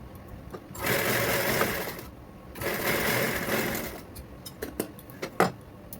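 A sewing machine runs a press stitch through the middle of a saree border, two steady whirring bursts of about a second and a half each, close and alone, followed by light clicks and taps.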